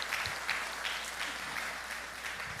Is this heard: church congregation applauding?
yes